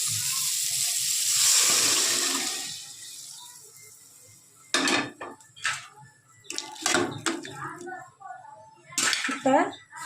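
Boiled chickpeas and their cooking water are poured into a metal pot in a home kitchen, a splashing pour at the start followed by clinks and clatters of pots and utensils; no one speaks.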